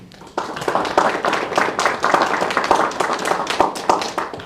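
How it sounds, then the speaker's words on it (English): An audience applauds to welcome new administration staff at a public safety committee meeting, with dense, steady clapping from a roomful of hands that rises quickly and holds throughout. "I'd love for you to give them a round of applause"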